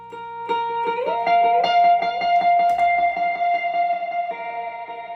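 Electric guitar plays a sustained, singing high lead line over picked notes, drenched in reverb that lets each tone ring out and blend.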